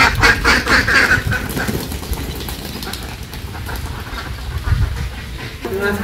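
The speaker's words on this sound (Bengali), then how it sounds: "হাঁস ছাড়তে বাইরে আইসি" Ducks quack in a Bangladeshi village in the morning, a burst of close, loud, repeated quacks in the first two seconds, then quieter scattered calls over outdoor background noise.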